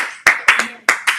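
A church congregation claps in a steady rhythm during worship, five loud, close, sharp handclaps spaced evenly in a quick beat.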